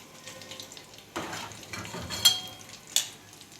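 Shrimp frying in hot oil give a soft, close sizzle with light stirring and a couple of sharp metallic clinks from a utensil against the pan; no talk.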